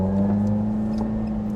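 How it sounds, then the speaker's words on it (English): A Lotus Elise sports car engine heard from inside the small cabin: a steady, low, humming drone at constant pitch throughout, with no rise in revs and no talking. "It instantly sounds like a Lotus Elise."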